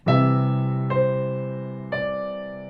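Three piano chords struck one after another, each ringing out and slowly decaying, played alone and close.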